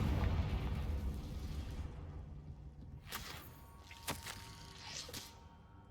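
In the Hogwarts Legacy video game, a Confringo fire spell detonates with a deep rumbling boom that slowly fades, followed by several sharper crackling bursts and pops a few seconds later.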